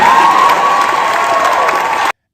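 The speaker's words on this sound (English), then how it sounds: "The crowd goes wild." A dense rally crowd roars and cheers continuously at steady volume, a thick wash of shouting and applause that holds for about two seconds before cutting off abruptly.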